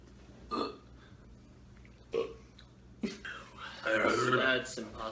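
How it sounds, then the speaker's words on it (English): A person burps during an eating challenge, with several short, sharp belches spaced about a second apart, followed by a longer, louder gurgling burp mixed with voice near the end, all close and fairly loud. "Get the burp out without throwing up."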